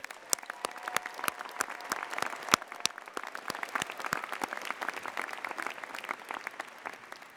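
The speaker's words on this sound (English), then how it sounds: "So let's thank them with a huge round of applause." Commencement audience at a spring university graduation breaks into sustained applause, a dense steady clatter of many hands clapping with sharp individual claps standing out, filling the whole hall without pause.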